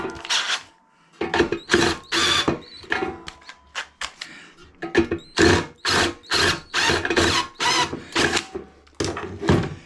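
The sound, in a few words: drilling an 8mm hole in a steel ammo box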